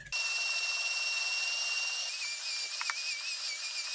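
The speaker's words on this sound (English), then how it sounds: "I'm going to grab my handheld mixer with the whisk attachment, and we're going to mix for 8 to 9 minutes" A handheld electric mixer with a whisk attachment whips homemade marshmallow for Peeps, a steady high motor whine with whisk scraping against the bowl, close and continuous with no talk.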